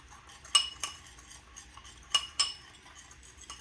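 A spoon or utensil clinks and scrapes against a bowl while a spice rub for chicken breast is mixed, with four or five sharp, close knocks spread across a few seconds.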